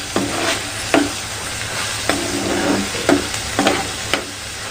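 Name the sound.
sautéing ground masala paste in oil for fish curry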